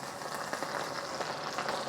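Chicken skin fries in its own rendered fat in a pan with a steady, soft crackling sizzle, continuous and fairly close without any talking.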